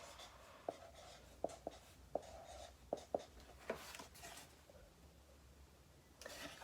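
A pencil writes on paper during a math lesson, making soft scratchy strokes with sharp little taps at irregular intervals, close and quiet, with no voice over it.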